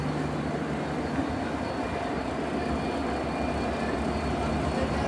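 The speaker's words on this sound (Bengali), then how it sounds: "চার নম্বর প্ল্যাটফর্মে দাঁড়িয়ে রয়েছে American giant American progressive company দ্বারা প্রস্তুত করা ছেষট্টি সিরিজের ব্রড ইএমডি লোকোমোটিভ" An American-built broad-gauge EMD diesel locomotive idling at a railway station platform, a loud, steady, low engine rumble that holds level throughout with no break.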